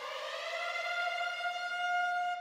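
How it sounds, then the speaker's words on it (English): A wailing civil-defense-style siren used as an effect in a bass house track, pitched down and drenched in reverb, holding a steady sustained tone with layered harmonics that swells slightly and cuts off abruptly at the end. "You guessed it, more sirens."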